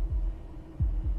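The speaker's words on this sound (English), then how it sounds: "That was the sound of a heartbeat" Heartbeat sound effect from an audio drama: deep, muffled low thumps, one early beat, then a closer lub-dub pair near the end, with no voices over them.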